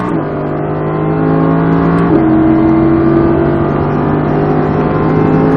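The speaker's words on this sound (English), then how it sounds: "Squeeze back onto the gas. And now as hard as you want." An Audi R8 V10 accelerates hard on a track, its engine note rising in a loud, sustained roar with a brief gear-change dip midway, heard from close inside the car.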